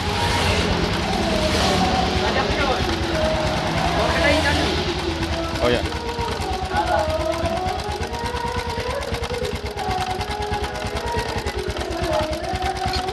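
A rough-running Honda Supra X 125 motorcycle engine idles steadily and loudly up close with an uneven, rattling texture, while someone speaks briefly over it.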